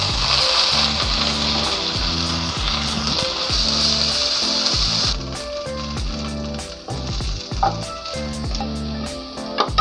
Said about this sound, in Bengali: এখন কিন্তু আমি এই একই খোলার ভিতরে আমি কিন্তু এখন ধনিয়া পাতাটা হালকা ভেজে নেব